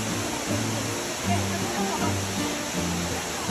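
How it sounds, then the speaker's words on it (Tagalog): Aliw Falls, a waterfall in Luisiana, Laguna, pours in a steady, loud broadband roar that stays constant throughout, with low murmuring sounds faintly underneath. "At ito nga, ang Aliw Falls."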